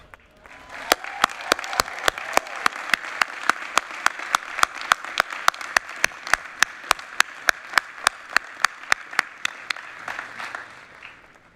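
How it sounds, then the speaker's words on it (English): Rhythmic applause at the Dartmouth commencement ceremony, a standing audience clapping in steady, evenly spaced unison beats over a soft wash of scattered clapping, moderately distant. "give them a standing round of applause"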